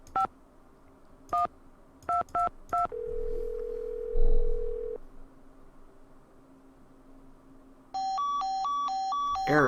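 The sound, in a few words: phone error tone in video game Nancy Drew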